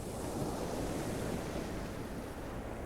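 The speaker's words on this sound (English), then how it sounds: "You imagine the coming and going of the water" Ocean waves wash steadily onto a sandy beach in a dense, continuous roar of surf, with wind noise mixed in and no voices.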